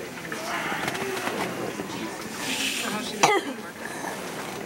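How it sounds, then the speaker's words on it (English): A single sharp cough bursts out partway through, over a hushed hospital room with soft background murmur. "I have to cough."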